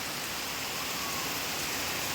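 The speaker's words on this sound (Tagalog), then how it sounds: "2 oras na. Tuloy-tuloy ang ulan." Heavy monsoon rain in a Philippine province pours down steadily and loudly, a dense unbroken hiss of water without pause or voices.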